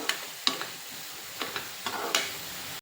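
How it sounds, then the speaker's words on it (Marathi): Spice paste frying in oil for paneer makhana sabji, a continuous close sizzle with a few sharp spoon scrapes and taps against the pan. "मसाल्यांची पेस्ट तयार केली होती ती घालायची आणि सुद्धा तेल सुटेपर्यंत फ्राय करत राहायचं"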